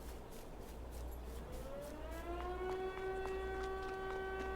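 A civil defense style siren in the Farming Simulator 22 video game on the Burgenlandkreis map slowly winds up into a long, rising harmonic wail over low ambient rumble, faint and distant.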